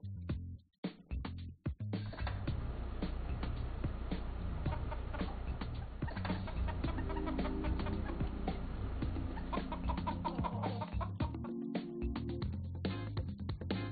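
Chickens cluck repeatedly in the Farming World farming game, steady close clucking and calling over a soft continuous background.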